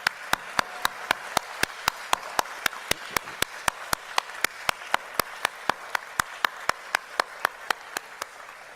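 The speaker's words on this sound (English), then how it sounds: "Ladies and gentlemen, another round of applause" Clapping at a university graduation ceremony comes as an evenly spaced, steady beat of sharp claps, close and distinct, roughly four per second, running unbroken from start to finish.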